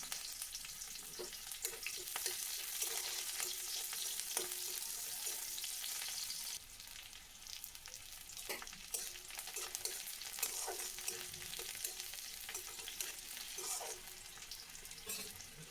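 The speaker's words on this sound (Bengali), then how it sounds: "পেঁয়াজটা কিছুক্ষণ ভাজার পরে" Steady hiss and crackle of diced onions sizzling in a hot pan, with occasional stirring scrapes and clinks, continuous throughout.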